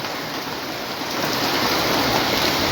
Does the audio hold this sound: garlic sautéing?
no